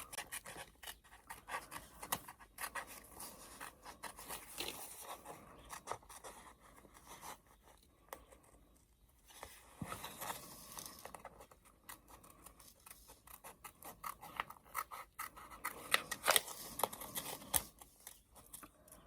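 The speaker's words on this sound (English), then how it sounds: "so I'm going to take my scissors" Scissors snip through paper in a long series of quick, close, crisp cuts with brief pauses between runs.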